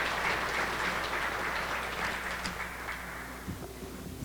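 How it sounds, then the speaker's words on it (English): Audience at a downtown civic address applauds, a dense, steady wash of clapping that holds for several seconds before thinning out near the end. "He really does need a big round of applause for the work that he's been doing in the downtown."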